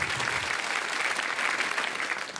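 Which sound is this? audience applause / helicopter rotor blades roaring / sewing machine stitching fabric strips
audience applause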